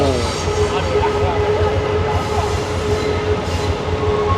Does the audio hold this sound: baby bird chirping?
no